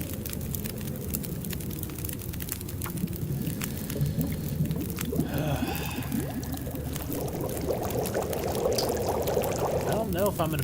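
Water being made over a campfire in The Long Dark, a steady pouring, bubbling liquid sound that swells louder in the second half, running continuously under a low background bed of game ambience and speech.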